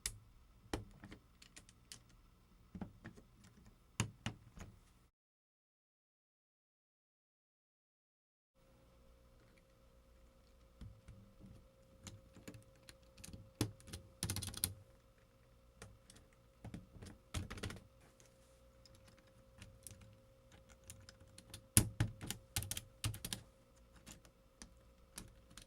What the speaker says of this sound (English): There's just something satisfying about putting keys back on a keyboard.